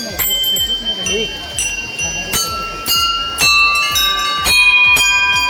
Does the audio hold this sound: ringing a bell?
yes